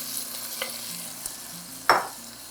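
Ground beef and Italian sausage fry in avocado oil in a hot pan, a soft steady sizzle broken by a few light stirring scrapes and one louder scrape near the end.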